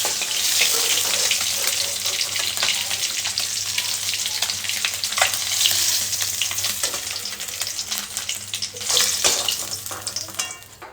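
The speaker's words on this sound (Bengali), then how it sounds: "চলো এবার মাছটা ভেজে নিই।" Fish frying in a little oil in a home kitchen gives off a continuous crackling sizzle, steady and close, with a few sharper spits and pops scattered through it.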